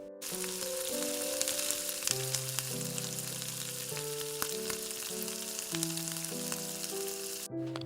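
A spice mix of golden-fried ginger with turmeric sizzles steadily in a pan, a constant close hiss running the whole time beneath a loud melodic music track.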